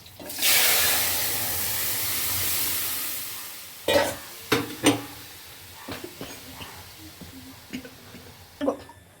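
Dal is tipped into hot tempering oil, a loud burst of hissing sizzle that slowly fades, followed by a series of sharp scraping stirs of a spoon against the pan.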